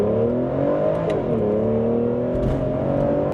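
A 2015 Bentley accelerates on a test drive, its engine note rising smoothly through gears with a brief dip at a shift, a loud, close, continuous interior drone.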